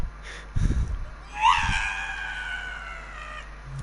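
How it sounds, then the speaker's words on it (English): A character in the video game Dreams lets out a sudden high-pitched shriek that rises sharply, then holds a wavering tone for about two seconds. Brief low thumps come before it. "I didn't expect him to do that, to shriek like that."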